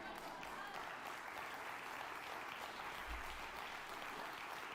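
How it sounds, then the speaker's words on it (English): Steady audience applause at a comedy talk show, broad and continuous for several seconds, loud and even with no voices on top. "Applause break."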